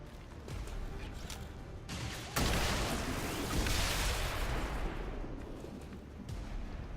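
Cannon fire in the turn-based video game SpaceCOM: a muffled opening rumble, then a sudden loud blast that rolls on into a sustained roaring barrage before easing off.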